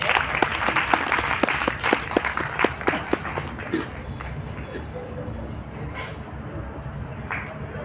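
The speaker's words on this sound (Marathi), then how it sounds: "टाळ्या होऊन जाऊ द्या" Audience at a literary conference seminar in Nagpur applauding, a burst of rhythmic hand clapping that fades out after a few seconds into room murmur.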